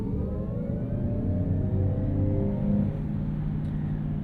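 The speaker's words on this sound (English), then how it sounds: "So we can turn on our driving noise here, and you can hear that." Kia EV9 electric three-row SUV with active sound design on, its synthetic drive tone swelling under full throttle from about 20 mph: a steady, loud, harmonic hum with a low rumble, rising slightly in pitch, with no talking.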